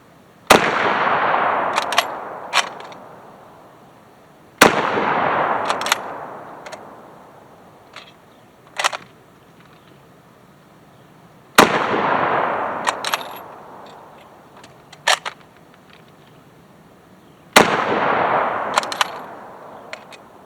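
Four loud, sharp gunshots from a 1943 Lee Enfield rifle, each followed by a long decaying outdoor echo, with smaller clicks and clacks of the bolt between shots.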